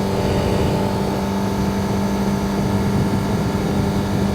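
A Honda CBR1000RR-R motorcycle engine drones loudly and steadily at speed on a ride, a continuous close rumble with wind noise and no distinct rev spikes.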